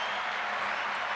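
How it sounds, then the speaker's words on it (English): Applause sound effect, a steady wash of clapping that fills the whole short stretch at even loudness, with no voices over it. "Applause for Kevin Samuels"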